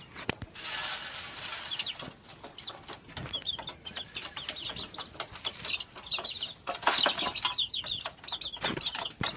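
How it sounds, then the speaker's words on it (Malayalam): Young chickens in a backyard flock give a dense run of high, thin cheeps that come close together and continue throughout, with soft rustling and some wing flutter beneath them. "ഇതാ ഞങ്ങളെ കോഴിക്കുട്ടികൾ."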